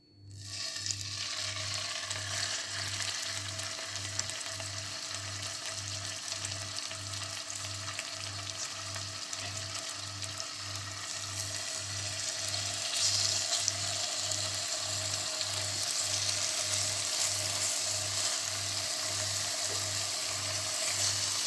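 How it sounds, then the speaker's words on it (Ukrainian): Chicken pieces sizzle and fry steadily in a hot pan, a constant crackling hiss with a low rhythmic hum underneath, fairly quiet and close. "І викладаємо ці шматочки на сковорідку смажитися."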